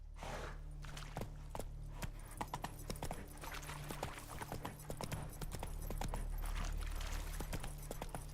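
The horse Roach trotting in The Witcher 3, with steady rhythmic clip-clop hoofbeats on hard ground, close and clear over a low ambient hum, with no talking.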